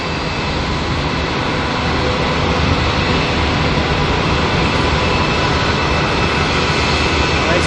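A loud, continuous roar from an Antonov AN-124 approaching Auckland Airport, a broad steady jet rumble that holds at the same level for several seconds with no speech.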